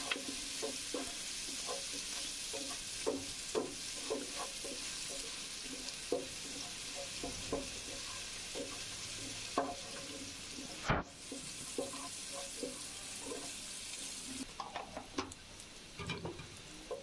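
Chopped onion and green chili fry in a pan with a steady, close sizzle under repeated scraping stirs from a spatula, all fairly quiet, with no voices.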